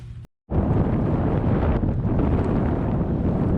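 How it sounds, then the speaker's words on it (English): Strong wind roars and buffets the microphone continuously on a hiking trail in rugged Canadian Shield country, Ontario, after a brief silent gap at the start, loud and steady throughout. "But boy, was it windy."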